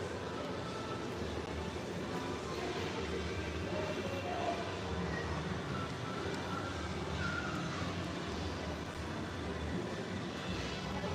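A Disney PeopleMover ride vehicle rolls steadily along its track, giving a continuous low rumble and mechanical hum that holds at an even level for the whole stretch, with faint background noise and no clear talk.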